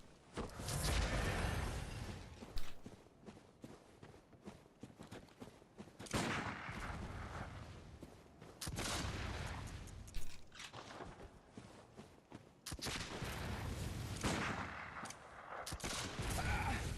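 Bursts of enemy gunfire roar in Bloodborne, with repeated heavy volleys and sustained loud rattling blasts separated by short lulls, close and dense, with no talking.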